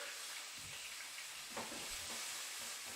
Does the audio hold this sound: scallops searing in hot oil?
yes